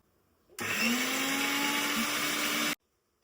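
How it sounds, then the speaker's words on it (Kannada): A mixer grinder whirs at high speed for about two seconds while grinding coconut chutney, starting and stopping abruptly, a steady loud motor whine with no talking. "ಈಗ ಇದನ್ನ ಸಣ್ಣಗೆ ಮಿಕ್ಸಿ ಮಾಡ್ಕೋಬೇಕು."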